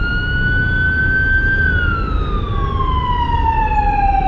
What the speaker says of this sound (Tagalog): Nice din yung ambulansya